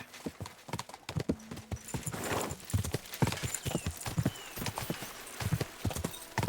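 Steady clip-clop of horse hooves trotting close by in the video game Kingdom Come: Deliverance II, with a brief whinny partway through and faint background sounds.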